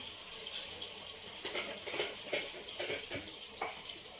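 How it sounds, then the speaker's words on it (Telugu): Water being poured into thick sambar in a cooking pot, a soft continuous splashing and trickling with faint bursts, heard close up with no talk. "కొంచెం వేసుకున్నాం వాటర్"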